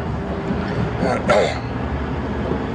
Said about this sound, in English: Please excuse me clearing my throat,